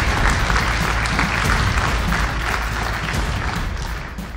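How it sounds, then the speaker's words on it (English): Audience applause for the finalists of a law school access-to-justice innovation challenge, heard as a loud, dense and sustained crowd clapping that continues evenly without speech for the whole stretch. "Big round of applause for all the finalists."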